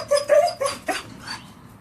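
A restless dog behind a board set up to block her view of other dogs gives a few short, close barks that trail into softer whimpers.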